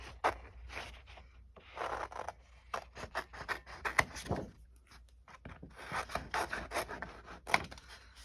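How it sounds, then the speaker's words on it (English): Scissors fussy cutting small paper butterflies, close and crisp, with short irregular snips and rustling paper sliding between cuts, no voices. "So I'm just going to cut out some of these smaller butterflies."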